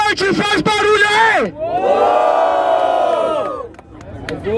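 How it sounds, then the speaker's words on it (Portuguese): Loud crowd cheering and yelling at a rap battle follows a host's call, a sustained wall of shouts and whoops close to the listener that fades slightly near the end. "Quem curtiu as rimas do Kurt, faz barulho aí!"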